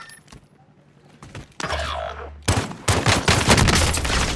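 Rapid bursts of automatic gunfire in Call of Duty: Warzone, loud and close, starting softly then growing into dense overlapping volleys with vehicle rumble beneath.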